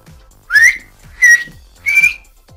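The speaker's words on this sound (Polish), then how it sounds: "Tu zostawić małą szparkę i gwiżdżę się już." Three loud, shrill whistles blown through cupped hands with the fingers shaping a small gap, each a rising tone about a fifth of a second long, evenly spaced and close with no talking.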